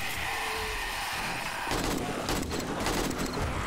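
Automatic turrets fire in 7 Days to Die, a dense rapid stream of gunfire that grows louder and busier halfway through amid a continuous noisy game background.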